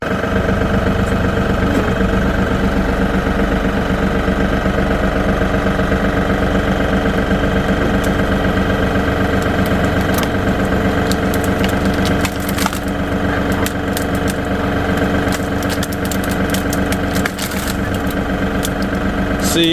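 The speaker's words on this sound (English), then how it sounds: "I've got the electric chainsaw out here" Kobalt battery-powered electric chainsaw cutting trees outdoors, a continuous loud motor whine with chain rasp and wood crackle throughout, close by, with brief snapping bursts later.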